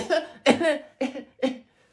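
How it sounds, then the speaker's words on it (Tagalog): Four separate coughs in quick succession, each a short harsh burst with brief pauses between, close to the listener. "May ubo kasi ako."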